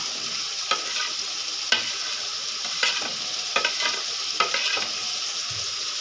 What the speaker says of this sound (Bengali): এবার আমি মশলাটা সুন্দর করে কষিয়ে নেব